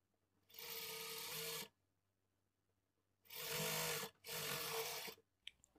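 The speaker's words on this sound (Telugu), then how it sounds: "ఇప్పుడు ఇక్కడ నుంచి స్టార్ట్ చేసుకొని పావించి మార్జిన్‌తో స్టిచ్ చేసుకోవాలి" A sewing machine stitches a blouse shape belt in three close bursts, one long run followed by two shorter ones with pauses between.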